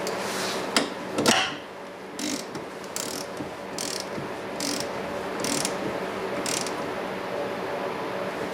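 Ratchet pawls click in short bursts as bolts are tightened on the gearbox housing of a Kubota BX front-mount snowblower, close up and moderately loud, with a few clunks of metal between strokes.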